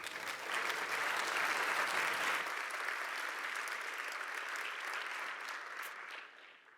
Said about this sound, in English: Give them a warm round of applause, please.